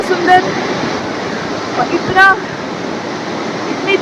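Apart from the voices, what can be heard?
loud rushing Mandakini river near Kedarnath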